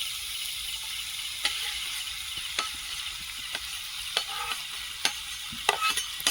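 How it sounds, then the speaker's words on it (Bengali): Prawns stirred into pumpkin, potato and Malabar spinach frying in a pan, a close low sizzle broken by regular clicks and scrapes of the spoon against the pan, no talk. "কুমড়ো আলু পুঁই শাক একটু কষিয়ে নিয়েছি এবার চিংড়ি মাছটা দিয়ে দেবো"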